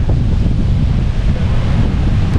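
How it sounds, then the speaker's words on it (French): Strong wind buffets the microphone outdoors at Tenerife South airport, a loud continuous low roar with gusty rumble and no pauses. "Je suis désolé s'il y a un peu beaucoup de vent"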